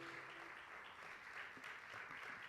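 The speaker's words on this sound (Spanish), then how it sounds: "Un fuerte aplauso para Carlos." An audience applauds for Carlos, heard as a faint, steady, even clapping that lasts for a couple of seconds.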